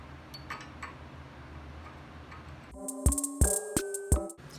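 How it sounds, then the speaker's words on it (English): Metal hammer blows drive a large punch to stake a wheel-bearing axle nut on a Subaru WRX STi, five or six sharp ringing strikes in an irregular rhythm, close and loud after a stretch of quiet shop background. "Bigger punch and bigger hammer."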